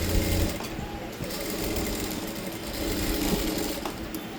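Sewing machine stitching a blouse seam, a steady close mechanical whirr running continuously without pause.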